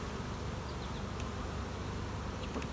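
Honey bees buzzing steadily around comb in a hive, a dense, close, continuous hum of many insects with no voices.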